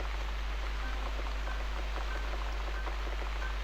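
Rain falls steadily in The Cat Lady video game, a constant soft patter over a low hum, faint and unbroken throughout.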